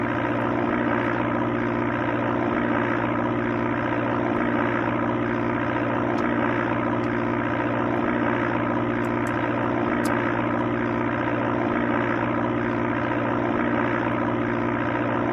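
Steady, droning propeller-aircraft engine from the Amiga flight game Flight Simulator II by Sublogic, a continuous synthesized hum holding an even pitch and loudness throughout, with no talking.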